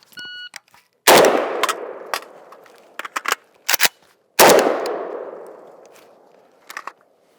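Galil Ace rifle fired in a low ready drill: a beep, then two loud sharp shots a few seconds apart, each ringing out with a long echoing tail, with light handling clatter between.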